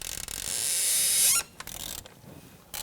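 A T30 Torx intake bolt being loosened on rubber bushings in a 1998-2011 Ford Ranger 4.0L V6, a close, faint ratcheting and creaking squeal that builds then stops abruptly, followed by softer mechanical clicks.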